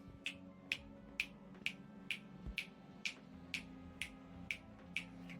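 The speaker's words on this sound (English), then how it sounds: "Because I can't clap right now, I did the snap." A series of about a dozen crisp finger snaps comes at a steady, even pace, close and faint over a quiet indoor background, with no talking.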